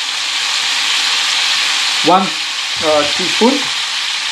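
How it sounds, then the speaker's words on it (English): Wood pigeon pieces sauté with turmeric in a pan for a green chutney biryani, giving a loud, steady sizzle throughout while a voice speaks briefly over it. "Saute for 2 minutes."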